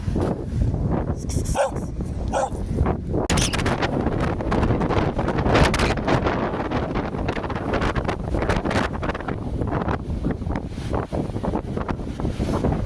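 Strong wind blows steadily outdoors, roaring and buffeting against the microphone without a break, alongside the rattle of a parked Land Rover shaking in the gusts.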